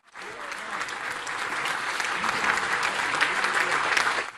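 A town hall crowd in Sandown, New Hampshire breaks into sustained, dense clapping that swells quickly and stays loud to the end, with some cheering mixed in.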